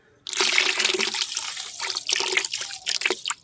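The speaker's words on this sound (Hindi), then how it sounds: "इसके बाद इसमें थोड़ा और पानी डाल देते हैं।" Water is poured into a rose plant's container of cinder gravel, a sudden start followed by a continuous close trickling and splashing with small gurgles for about three seconds.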